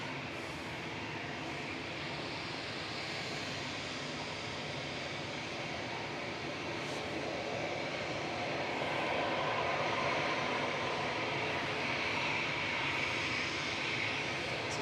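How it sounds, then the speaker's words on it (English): A Ryanair Boeing 737 MAX 8200 jet departs Manchester Airport for Alicante, its engine roar a steady distant broadband rush that swells slightly toward the middle before easing. "This is Ryanair heading off to Alicante, 737 MAX 8200, EIIKH, flight 9073."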